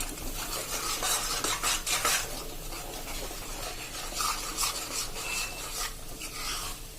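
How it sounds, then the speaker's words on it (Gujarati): Jaggery mohanthal flour mixture stirred in a pan over a slow-to-medium flame, a steady close scraping and rubbing of a spoon against the pan that continues throughout, with no talk. "એને આપણે કન્ટિન્યુ આ રીતે સ્લો ટુ મીડિયમ ફ્લેમ ઉપર ચલાવતા રહેશું।"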